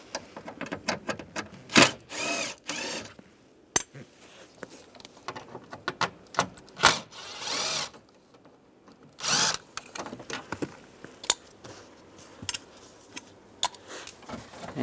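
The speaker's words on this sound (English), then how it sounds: "Use a Phillips head screwdriver." Screws being backed out with a Phillips head screwdriver from a panel on a 2007-2013 Chevrolet Silverado: bursts of sharp metallic clicking and scraping, with short pauses and a few louder rattles, close up and with no talking.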